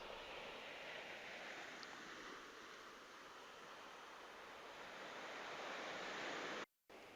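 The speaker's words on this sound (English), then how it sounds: "This is the sea in Chilaw nearby" Sea waves at Chilaw, Sri Lanka, a soft, continuous surf wash with a broad hiss and faint low rumble, distant and even, cut by a brief dropout near the end.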